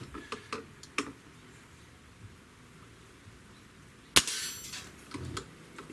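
A single sharp crack from a Crosman Mag-Fire Ultra air rifle firing, loud and close, rising out of quiet room tone with a few faint ticks and clicks before it.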